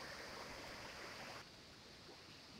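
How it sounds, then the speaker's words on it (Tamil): The Chinnar River near Munnar, Kerala, running with a reduced flow, gives a soft, steady rushing hiss heard from a distance, dropping slightly in level partway through, with no voices. "இதுதான் சின்னாறு. சின்னாற்றிலிருந்து தண்ணீர் சற்று குறைவாகவே வந்து கொண்டிருக்கிறது."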